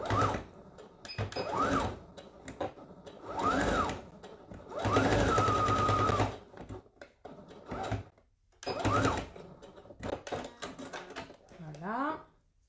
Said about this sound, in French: je fais coïncider les bords et je vais faire une petite surpiqûre pour fermer